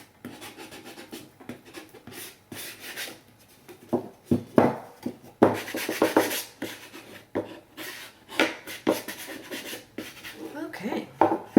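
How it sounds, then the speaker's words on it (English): Brisk scrubbing of a painted Christmas tree canvas, irregular rubbing and scratching strokes that come in uneven bursts, close and moderately loud, with breathing in places. "I wish scrubbing when you're cleaning like this would be more fun."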